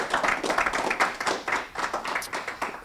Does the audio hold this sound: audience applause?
yes